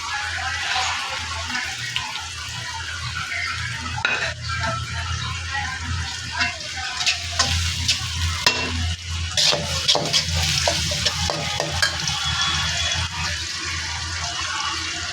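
Green chili peppers fry in oil in a pan with a continuous hissing sizzle over a low hum, broken by clattering spikes of stirring. There is no speech.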